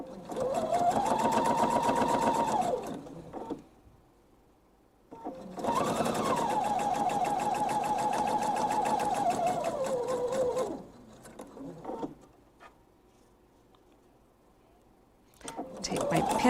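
A sewing machine stitches a fabric seam in two long steady runs with a whirring motor hum, separated by pauses, then a short start at the end. Quiet speech can be heard between runs.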